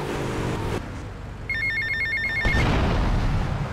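A payphone in the GTA Vice City video game rings with a short electronic trill, heard once over steady background traffic and ambience.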